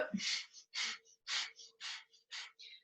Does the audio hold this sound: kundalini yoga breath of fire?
yes